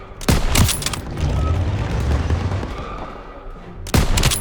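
Gunfire in a World War II Call of Duty battle for a town: sharp, loud shots crack at the start and end, with a rumbling, dense fusillade of distant fire rolling in between.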